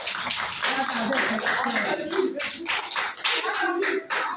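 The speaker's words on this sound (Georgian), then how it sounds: "ტაში ყველას" A class of seven-year-old second graders claps together, the uneven, rattling applause mixing with children's voices chattering over it.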